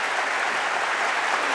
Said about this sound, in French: Allez, applaudissez.